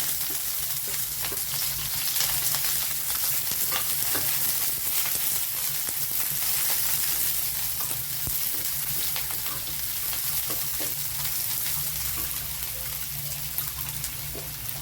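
Chopped onion and garlic frying in a hot pan give off a loud, continuous sizzle, dense and crackling, with no one talking.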